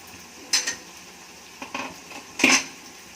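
Spoon stirring tomato curry in a cooking pot, giving three short scraping, clinking bursts against the metal, the last one loudest, with quiet gaps between.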